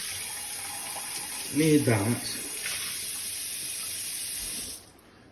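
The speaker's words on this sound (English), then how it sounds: "I want to wash out my half cup here, my cup measuring" Tap water runs into a kitchen sink to rinse out a measuring cup, a continuous splashing stream that briefly swells louder as the cup is filled and swirled, then cuts off near the end; a person speaks over it.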